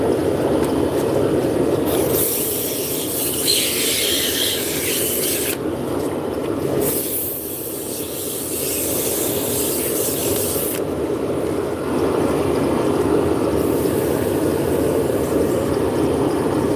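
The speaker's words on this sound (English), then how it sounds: "Now we're going to burn in a couple decorative lines." A wood lathe spins steadily while decorative lines are friction-burned into the turning wood, giving a continuous rushing, rubbing hiss with brief harsher scraping bursts. It is fairly loud and close, with no talk.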